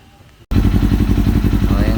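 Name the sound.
Kawasaki Ninja 400 motorcycle with Apido exhaust pipe running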